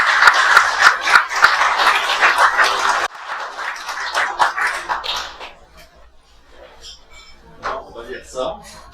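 Audience applause for a retiring member at a ham radio club gathering, dense clapping for about three seconds, then thinning to scattered claps and voices.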